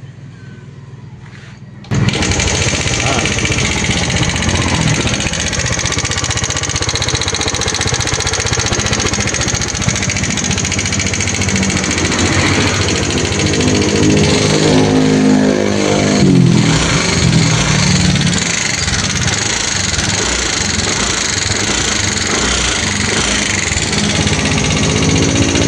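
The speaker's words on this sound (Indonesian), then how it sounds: "Ini berisik kayak mesin jahit" A Yamaha Aerox scooter engine with a fault idles loudly and steadily at close range, giving a fast, busy mechanical rattle like a sewing machine. It starts abruptly about two seconds in and runs continuously to the end.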